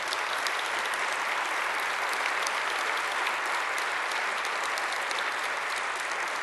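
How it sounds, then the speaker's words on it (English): Sustained applause fills a large hall at a scientific conference presidential address, a dense, even wash of many hands clapping continuously without voices. "Please join me in applause for these investigators and co-investigators."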